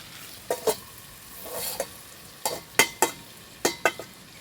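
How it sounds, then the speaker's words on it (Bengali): Cauliflower and potatoes are sautéed in a pan for a katla fish curry, with about ten short stirring scrapes over a low sizzle, close by. "ফুলকপি আলু খুব ভালো মতো করে আমি কষিয়ে নেব।"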